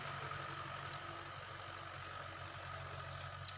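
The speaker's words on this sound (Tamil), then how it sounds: "மெயின் கான்செப்ட்டு அப்படின்னா இன்ஜின் சவுண்டு ஆகும்." A Mahindra 575 DI tractor engine runs steadily at idle, a continuous low chugging rumble with a faint regular knock, heard alone and at moderate distance.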